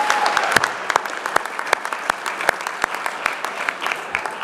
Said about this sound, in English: Come on, let's give her a bigger round of applause.